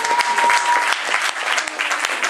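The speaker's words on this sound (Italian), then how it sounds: "un applauso" Audience applause at a comedy evening in Camerota, a dense, steady wash of many hands clapping close by, with a faint sustained tone running through the first part.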